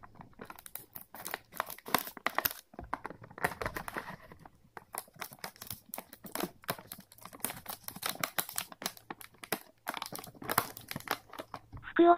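A bag of 2014 pro baseball chips is torn and crinkled open, giving dense, scratchy crackling of foil packaging up close, in irregular bursts throughout.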